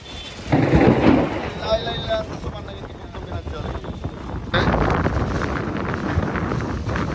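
Thunderstorm over Hosenpur Bazar heard from a rooftop in sudden daytime darkness, a loud thunder rumble and steady rain hiss with wind buffeting the microphone.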